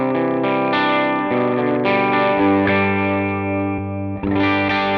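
Electric guitar played clean through a Vox A30 amp model on an HX Stomp, neck pickup, no effects: sustained ringing chords and notes, strummed in a steady rhythm, close and full with a brief gap near the end.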